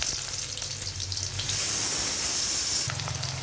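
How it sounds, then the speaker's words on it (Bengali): Chopped onions fry in hot oil with steady sizzling, a louder bright hiss swelling in the middle before settling back to a gentle crackle. "এখন পেঁয়াজটা একটু ভেজে নেব।"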